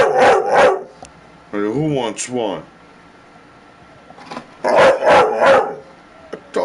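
A pet dog gives a few short yips and barks between stretches of someone talking, the barks sitting close by and partly overlapping his speech.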